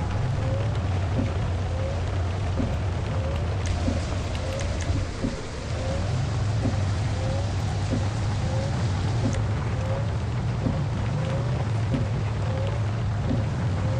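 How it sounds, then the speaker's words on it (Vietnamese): Heavy tropical downpour in Minibus Simulator Vietnam, heard while driving a County limousine minibus: a dense, continuous roar of rain over a low engine drone and a faint regular squeak, likely from the wipers, steady for the whole stretch. "Cái này mới gọi là mưa cực lớn luôn."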